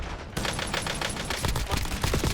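A full-auto MX Guardian shotgun loaded with Dragon's Breath rounds fires in Call of Duty Warzone, delivering a fast, loud string of booming blasts in quick succession that carries through the whole stretch.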